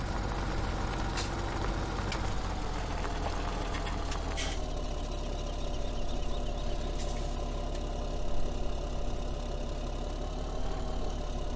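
A tractor engine idles in Farming Simulator 17 with a constant, even, mid-pitched rumble close by and a few faint clicks over it, no speech.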